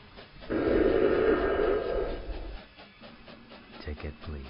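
A steam train hiss sound effect bursts in as a loud, broad rush that holds for about two seconds and then fades, followed by softer clattering and knocks, with speech faintly present.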